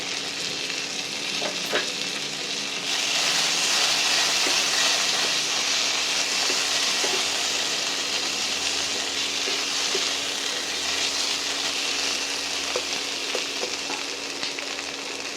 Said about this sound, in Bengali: পেঁয়াজের কালারটা চেঞ্জ হয়ে গেছে, এবারে আমি 1 চামচ আদা রসুনের পেস্ট দেব।